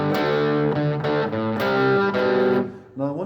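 Electric guitar with a light overdrive plays a verse riff in A, a steady series of sustained, ringing chord strikes close up with no talk over it.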